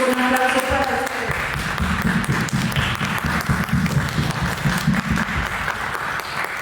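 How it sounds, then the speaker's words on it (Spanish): An audience applauds at an arts forum after a long question session, the steady clapping filling the room loudly and continuously; early on a few tonal voices or notes sound beneath it. "un aplauso para"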